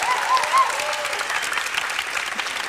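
An audience at a student revue applauds, a dense burst of clapping from a crowd that stays steady for a few seconds.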